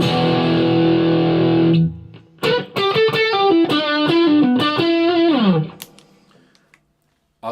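Electric guitar played through a distortion pedal: a sustained distorted note fades, then a loud run of overtone-rich gritty notes rings out and decays to near silence.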